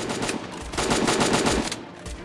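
Rapid automatic gunfire from the shooting game Free Fire rattles in a dense, continuous burst of loud close shots, with no talking over it.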